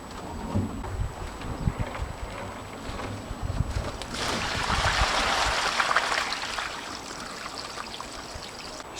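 Water tipped out of a garden container on an allotment, a broad splashing gush swelling midway and running for several seconds, with wind noise and trickling before and after.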